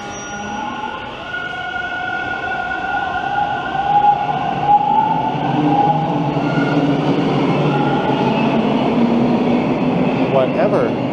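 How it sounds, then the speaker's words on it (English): A Toronto subway train on Line 2 pulls out of the station with a continuous loud rumble and whine that builds as it speeds away, close by, with faint talk over it. "Oh no, I have missed the train."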